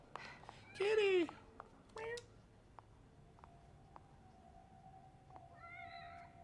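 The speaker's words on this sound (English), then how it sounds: "Kitty!" A cat meows in The Evil Within, two quick mewing calls near the start, then a softer drawn-out meow near the end, heard against a quiet game backdrop with faint ticks and a low steady hum.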